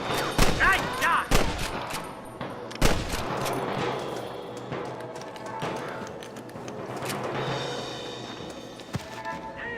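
Gunfire rings out in a Red Dead Redemption shootout, with a cluster of loud, rapid shots at the start, then scattered cracks amid a busy game soundscape and brief voices.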